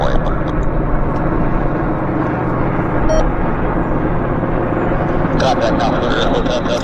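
Aircraft taxiing at Vancouver airport, a steady loud engine rumble and whine holding throughout, with faint radio chatter in the background.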